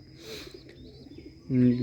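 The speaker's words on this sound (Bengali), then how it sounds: "দেখুন এটা হলো বম্বাই কবুতর আর এই কবুতর হলো সিলভার বেজি কবুতর" Bombay and silver pigeons coo softly in their loft, a low murmuring that grows louder near the end, heard under someone speaking.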